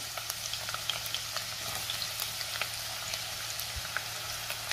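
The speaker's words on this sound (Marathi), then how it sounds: "कांदा आपल्याला परतून घ्यायचा आहे।" Onion sautés in hot oil with bay leaf, cloves and a piece of cinnamon, producing a continuous crackling sizzle dotted with small pops, fairly quiet and close.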